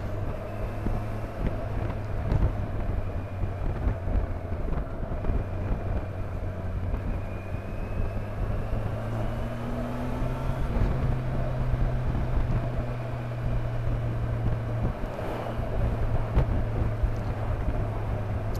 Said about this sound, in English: There's so much power in this engine, it's just there, ready for you.